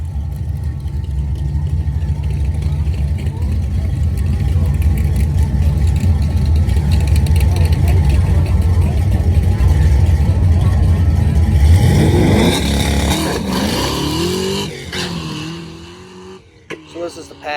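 A nitrous-fed Fox body car on 200 jets roars loudly through a sustained hard run, its engine note climbing before easing off and cutting out near the end.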